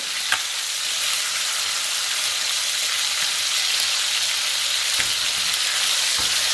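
Chicken pieces frying in butter in a cast-iron pan give off a steady, close, dense sizzle and crackle that runs unbroken throughout, with a few sharper pops and no talking.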